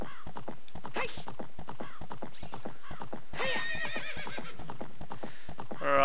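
A horse in The Legend of Zelda: Ocarina of Time gallops with rapid, rhythmic clip-clop hoofbeats near Gerudo Fortress, with a loud neigh and whinny breaking in twice over the steady pounding.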